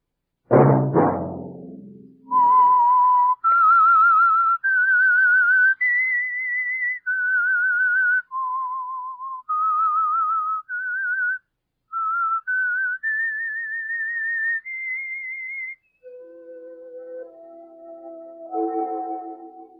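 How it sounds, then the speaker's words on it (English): A clear, melodic whistle plays a slow tune of sustained notes, heard alone with brief pauses between phrases. "Let that whistle be your signal"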